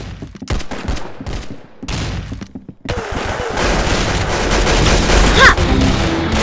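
Gunfire in the Roblox game Arsenal, with rapid bursts of shots and booms crackling in quick succession, then a sustained loud barrage of game noise toward the end.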